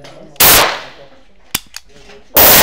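Two sharp, loud pistol shots from a Berca Tunder handgun at a gun shop event, each a close crack with a short decaying tail, separated by about two seconds with small clicks of handling between them.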